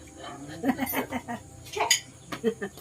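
Plates and dishes clink and clatter in short bursts as they are handled while cooking for family in a rural provincial home in the Philippines, with people talking nearby between the knocks.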